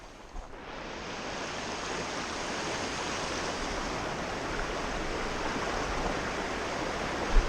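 Steady, close rush of the Waiau River in Te Urewera, North Island, New Zealand, a broadband wash of flowing water running unbroken throughout with no voices over it.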